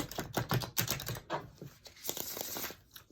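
A deck of tarot cards is shuffled up close, producing quick bursts of riffling, flapping and crinkling card noise with short pauses, ending in a sharp snap.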